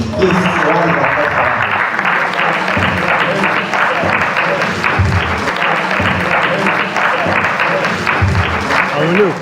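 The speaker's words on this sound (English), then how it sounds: "Please round of applause." A conference audience gives a steady, dense round of applause at a presentation event, loud and continuous from start to finish with no break in the clapping.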